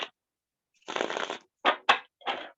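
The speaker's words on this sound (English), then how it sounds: "So this is my third shuffle." Tarot cards being shuffled by hand in short bursts: one long riffling run, then quick snapping flicks and a final brief riffle, close and crisp with silence between.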